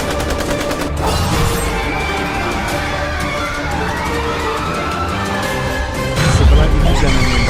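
Rapid automatic gunfire from an AK-47 in a horror video game, sustained bursts running loud and dense throughout, mixed with crashing impacts and a heavy boom near the end.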